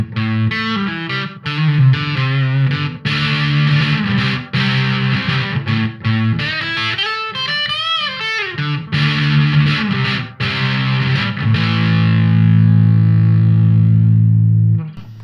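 Electric guitar played through a fuzz pedal on the humbucker pickup, thick distorted chords and riffs ringing loud and continuous for about fifteen seconds, ending on a long sustained note.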